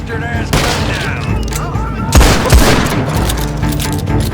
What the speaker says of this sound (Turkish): Bak vuruyor adam.